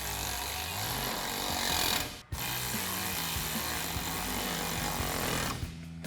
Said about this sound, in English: And now we'll take our T30 Torx socket to tighten this side down and do the same thing on the other side.